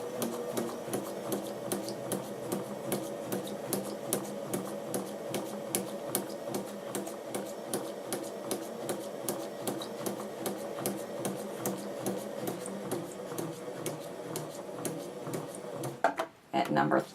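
A sewing machine runs steadily through a curved-line stitching practice exercise, its rapid rhythmic needle clatter continuous and close, pausing briefly near the end with a few handling knocks.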